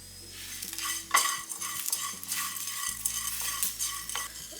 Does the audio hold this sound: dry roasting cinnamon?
yes